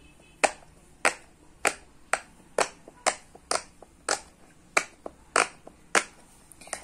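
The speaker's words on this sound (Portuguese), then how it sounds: "aqui é o barulho do puppet de baleia no chão" A whale-shaped pop-it fidget toy pressed on a floor, giving a steady series of sharp, close popping snaps about every half second, with nothing else heard.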